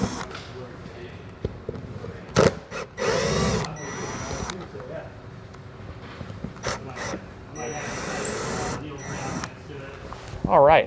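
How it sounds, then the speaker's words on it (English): A power drill with a Phillips bit backs screws out of a plate on a 2018 Coachmen Apex camper, with short whirring bursts between pauses and someone talking throughout. "We're gonna use a Phillips bit. Remove each one of these."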